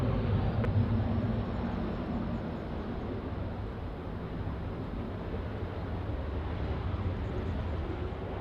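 Jet aircraft taking off from runway 34 left at Sydney Airport, a steady broad engine roar that stays fairly constant and moderately distant with no voices over it.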